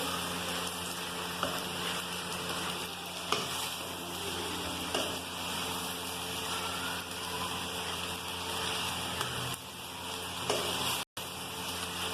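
Boiled elbow macaroni with vegetables and chili garlic sauce is stirred in a pan, a soft steady sizzle with faint scraping of the spoon and a few light clicks, no speech.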